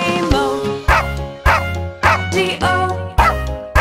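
Cartoon dog barks sound in a children's nursery song about a farmer's dog, a series of loud yapping woofs falling on the beat over bright music and singing.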